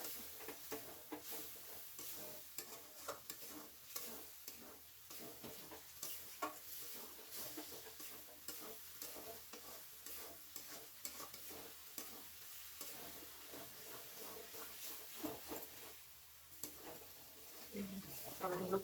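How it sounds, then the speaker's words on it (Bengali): Rui fish curry masala is stirred in a pan, with repeated spatula scrapes and gentle sizzling that rise and fall in an uneven rhythm, fairly quiet and close. "আবার নেড়ে চেড়ে নেবো।"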